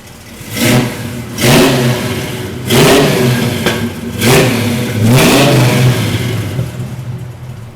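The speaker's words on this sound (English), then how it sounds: "How about I fire it up for you so you can hear what it sounds like?" A 1969 Camaro convertible with a 427 big-block V8 revs hard in repeated loud bursts, each throaty surge climbing then dropping back to a rumbling idle, close up with no talking.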